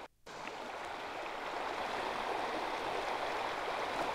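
Small river currents flowing over rocks on the Montmorency River, a steady close rushing and gurgling wash that holds constant throughout after a brief quiet start.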